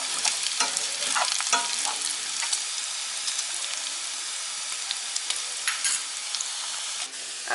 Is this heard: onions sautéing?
yes